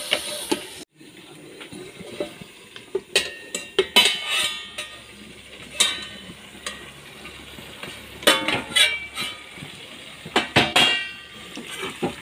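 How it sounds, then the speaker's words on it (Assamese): Spoon scraping and clanking in a pot of Assamese duck curry with potato and ash gourd, a run of close stirring clatters and bumps followed by a lid set down on the pot, steady background sizzle. "এইখিনি মিক্স কৰি ল'লোঁ আৰু এতিয়া মই ঢাকনা মাৰি দিম"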